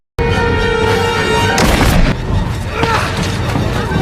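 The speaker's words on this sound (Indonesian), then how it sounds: "Namun ia ditembak tepat di dadanya hingga tewas seketika." A gunshot from a martial-arts swordsman film lands as a sharp, loud booming burst partway through a dense, noisy soundtrack with sustained tones, followed by rumbling debris-like noise.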